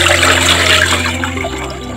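Water pours steadily into a pot for boiling dal, a loud, close gushing splash that softens and thins toward the end.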